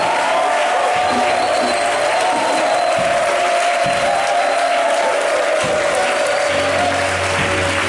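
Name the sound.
congregation applauding and cheering to acclaim Jesus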